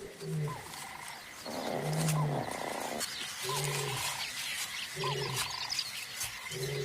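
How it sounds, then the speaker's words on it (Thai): A lion gives a roaring call on open grassland, a series of deep, repeated grunting roars in a steady rhythm, with someone narrating over it throughout. "เมื่อสิงโตตัวเมียได้ยินเสียงร้องเรียก จึงรีบเดินมาหาต้นเสียง"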